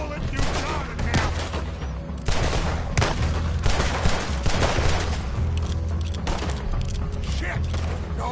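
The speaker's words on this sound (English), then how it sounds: "Put every bullet you got in him!" Several guns fire at once in a western shootout: dense, overlapping volleys of loud close gunshots crackle continuously for several seconds, with shouting voices mixed in among the shots.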